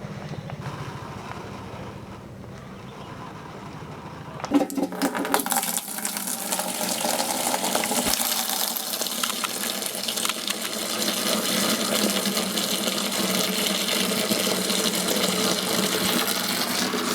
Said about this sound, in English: Cinematic cloth washing.